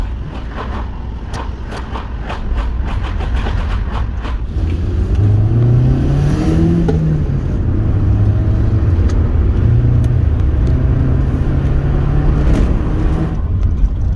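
A modified Rover car driven in rain, its engine heard from inside the cabin as it accelerates hard, revs climbing through gear changes over steady road and rain noise.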